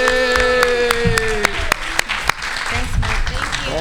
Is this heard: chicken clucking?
no